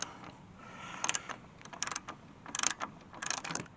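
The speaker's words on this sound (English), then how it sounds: "So you have to undo that bolt" A ratchet or wrench clicks in short bursts while an 8mm bolt on the radiator mount of a Fiesta ST150 is undone, with quiet mechanical clatter between the clusters of sharp ratcheting.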